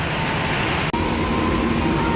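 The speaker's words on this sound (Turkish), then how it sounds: "Evet arkadaşlar çok şükür bizim tren de geldi." A train pulls into an intercity railway station in Indonesia, a loud, steady rumble with a faint tonal whine, continuous for a couple of seconds, no talk.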